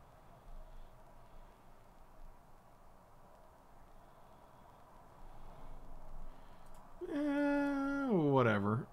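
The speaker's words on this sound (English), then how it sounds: "It's a cat. It's not great." A cat meows in the card game MTG Arena, one drawn-out, wavering meow near the end after quiet background sound.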